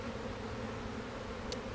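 A dense, steady hum of many honeybees buzzing together in a hive, low and continuous, close by with no other sounds.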